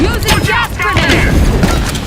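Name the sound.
gas grenade explosion in a video game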